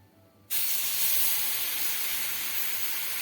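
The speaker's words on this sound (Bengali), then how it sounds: "এবারে ধীরে ধীরে দুধটা আমি দিতে থাকবো দুধটা একবারে একসঙ্গে দেব না" After a brief quiet, a steady loud sizzling hiss starts as milk is poured slowly into a butter and flour roux frying on a low flame, and it holds constant to the end.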